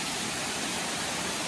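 Steady rushing water of a small waterfall spilling across a walking path at the Chota Amarnath Mahadev cave temple near Indore, a continuous close hiss with no pauses or voices.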